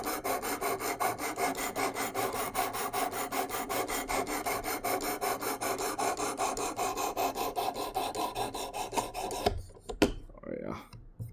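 Rapid rhythmic rasping strokes of a small 2.5-inch Demko SharkCub knife blade drawn across a sharpening stone, steady and close for most of the time, then stopping with a few brief handling knocks.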